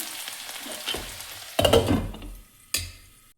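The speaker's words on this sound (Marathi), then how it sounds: "आता टाकत आहे मी बारीक चिरलेला कांदा, साधारण एवढा, आणि हा गुलाबी सर होऊ द्यायचा।" Finely chopped onion hits hot oil and is stirred, bringing soft sizzling that swells sharply twice as more goes in, each burst fading to a quiet crackle.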